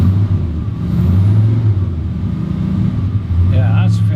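A vehicle engine runs steadily with a low rumble after starting, on a driveway where road salt is washed off, with a voice speaking briefly near the end.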